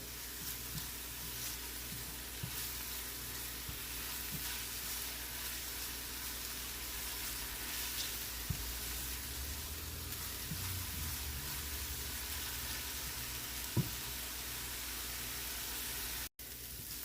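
Onions and aromatics for a meatball mixture cooking in a pan until transparent, a steady soft sizzle running throughout with a few faint utensil taps, no talking.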